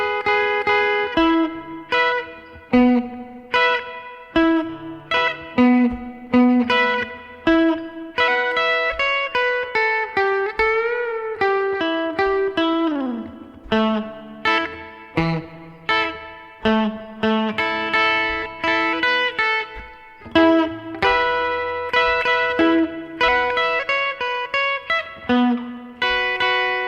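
Electric guitar with effects and distortion plays the second verse of a surf tune at a slow pace, with steady picked melody notes, slides and sustained chords running continuously, loud and alone.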